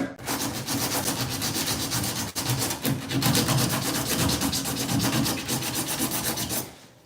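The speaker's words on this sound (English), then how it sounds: "all I'm doing is I'm just scuffing around the edges there" Sandpaper scuffs steadily around the edges of a hole in a fiberglass shower, a close, continuous rough rubbing that pulses back and forth for several seconds before stopping.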